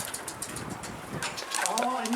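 Pigeons cooing outdoors, soft repeated coos mixed with wind noise and rustling, with people talking over them.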